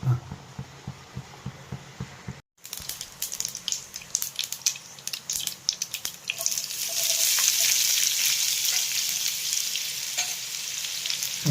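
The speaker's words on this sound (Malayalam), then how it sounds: "കടുക് ചില എണ്ണ മൂപ്പിച്ച് അതിനകത്തേക്ക് ഇടാം" Mustard seeds frying in hot oil in a pan for a dried fish curry, first a rhythmic stirring or tapping, then a building crackle and sizzle that swells into loud continuous spattering.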